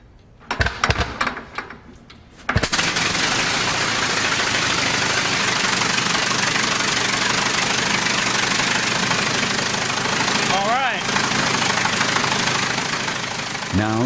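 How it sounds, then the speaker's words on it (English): A few clattering bursts give way to a big Wright aircraft engine roaring to life and running loud and steady, a brief chirping squeal partway through. "how a Wright engine really sounds"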